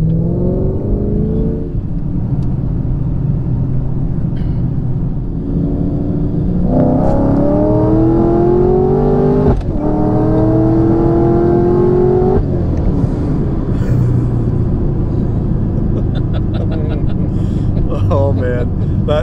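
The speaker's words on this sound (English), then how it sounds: "Going for a ride in the Camaro." Camaro engine accelerating during a ride, heard from inside the car as a loud droning roar that climbs through several rising sweeps, with people talking over it.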